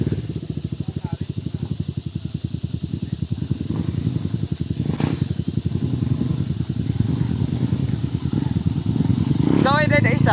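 A motorcycle engine runs close by with a steady rapid pulsing throb that holds for the whole stretch, with a brief clatter near the end and talk occasionally heard over it.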